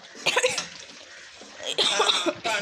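Two bursts of harsh coughing, a short one early and a louder, longer one later, close up with quiet gaps between.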